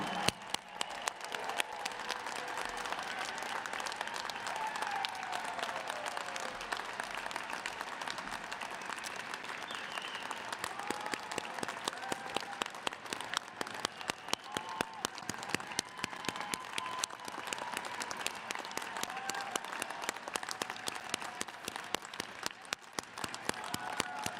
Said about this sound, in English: Please join me in a round of applause for the University of Cincinnati's College of Law's class of 2021.